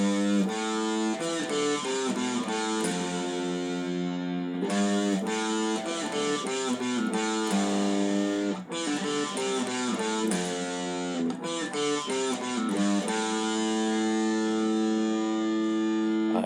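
Electric guitar plays a chorus riff slowly, a distorted, echoing tone with repeated phrases and sustained ringing notes, loud and continuous for over fifteen seconds with no talking.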